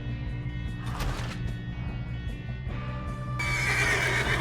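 A horse neighs and whinnies over steady game music in Red Dead Redemption 2, the call rising louder toward the end of the clip.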